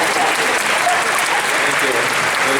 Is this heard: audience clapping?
yes